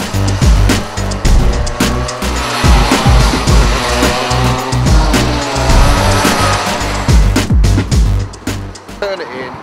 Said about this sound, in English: I'm going to follow him in one of the race karts